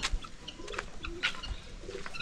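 Birds call around a fishpond compound, with soft pigeon-like coos and chirps that sound faint and somewhat distant over a low background hiss.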